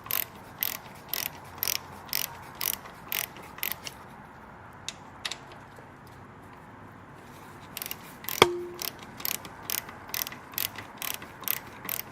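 A drain plug being fitted by hand into the oil system of a Triumph Bonneville T140V motorcycle gives quiet, rhythmic bursts of metallic clicking, a lull in the middle, then a single sharp knock before the clicking resumes.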